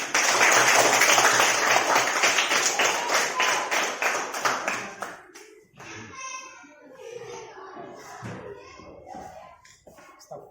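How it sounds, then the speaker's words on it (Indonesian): An audience at an academic supervision session in Blora claps together in a dense, loud burst that fades out after about five seconds, followed by a voice speaking over a quieter room. "Ya, terima kasih, kita tepuk tangan dulu."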